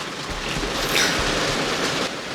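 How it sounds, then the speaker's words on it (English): Steady rain falling outdoors, a continuous broadband hiss with no talk over it and a brief swell partway through. "And there's the rain."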